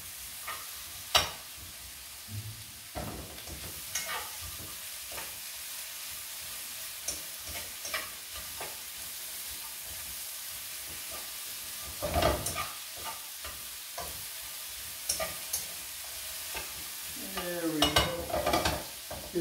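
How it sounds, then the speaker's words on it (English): Chopped onion sweats and fries in a pan at home, a steady soft sizzle with occasional scrapes and clicks of a utensil stirring, close and fairly quiet, with no talking. "We're just gonna sweat the onion."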